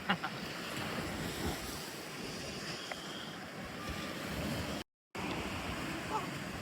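Sea waves wash onto the shore below Koyla Dungar near the Bhid Bhanjan Mahadev temple, a steady broadband surf roar mixed with wind buffeting the microphone, continuous and fairly loud.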